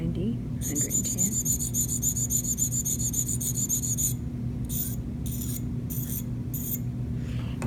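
Dental hygiene instrument blade being sharpened, a steady close rasping scrape running continuously for about four seconds, then breaking into short repeated strokes over a low background hum.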